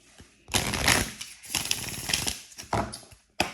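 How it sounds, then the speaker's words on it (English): Tarot cards are shuffled close up in quick riffling bursts, with a crisp flutter, a pause, and a few sharp taps at the end. "This card shuffles so nice."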